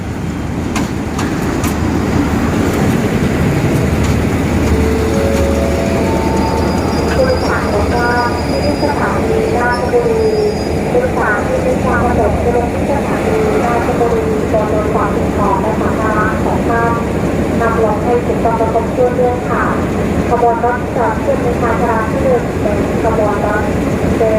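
Hitachi 4518 diesel locomotive hauling a Thai rapid passenger train near Ratchaburi, its engine a steady low drone with a rhythmic clatter of wheels on rails running throughout, fairly loud and close.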